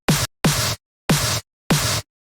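A snare drum sample with a noisy, hissing tail, four separate hits with the noise sustained and then cut off abruptly, loud and close, no talking.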